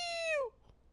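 A single drawn-out cat meow, clear and close, sliding downward in pitch over about half a second, then fading into quiet room noise.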